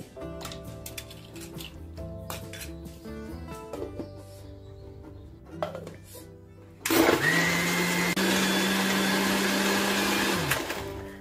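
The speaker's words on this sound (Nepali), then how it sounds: "मजाले ब्लेन्ड गर्नुपर्छ त्यसपछि यसलाई" A countertop blender whirs loudly through lassi mixed with ice cubes, starting abruptly partway through and running steadily to the end, with quieter kitchen sounds and background music before it.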